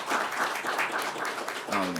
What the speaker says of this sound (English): Let's give them a round of applause for what they did